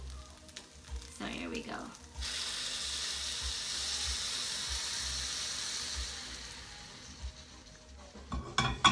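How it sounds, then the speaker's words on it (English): Stock poured into a seafood paella pan on a stove sets off loud, steady sizzling with stirring and pot clatter. A short spoken remark comes first, and the frying runs on continuously beneath it. "now here's the part where I'm gonna add half of the stock"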